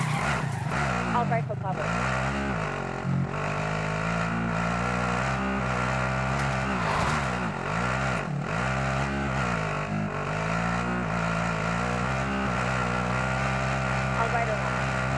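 A car's engine drones steadily and loudly throughout a Call of Duty Warzone match, with pitch shifting as it speeds up and slows, while a player talks over it.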